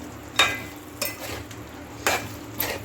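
Chicken curry stirred in a pan with a few distinct spoon scrapes and knocks against the metal, spaced about half a second apart, over a faint background hiss.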